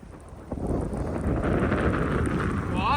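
Strong wind on Kyathanamakki Hills rushes and buffets loudly across the microphone, building after a brief quieter start and staying continuous.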